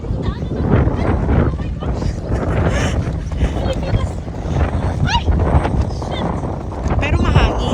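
Wind buffets the microphone in steady rough gusts under ongoing conversation outdoors, with a faint motor hum in the background.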